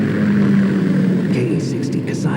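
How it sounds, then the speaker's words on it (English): A Kamov K-60 Kasatka helicopter in Metal Gear Solid 2 drones with a steady rotor and engine hum under game dialogue, with a faint higher whine briefly rising toward the end. "K-60 Kasatka. Kasatka? Kamov chopper, right?"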